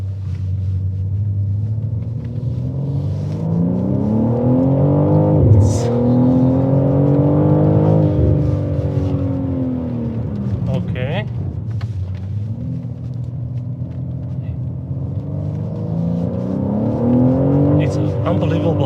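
BMW M3 Competition twin-turbo all-wheel-drive car accelerating on twisty roads, a steady droning engine note that rises and falls through the gears under continuous talk from inside the cabin.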